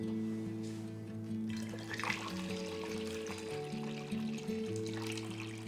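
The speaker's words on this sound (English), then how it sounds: "So I'm going to pour it back into the container." Stop bath for black-and-white film developing being poured back into its container, a steady liquid trickle and splash heard alone over a droning background hum.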